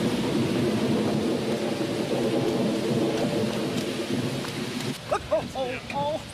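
Heavy rain pours steadily with deep rolling thunder, loud and close, then the storm drops back and a few voices speak over the fading rain.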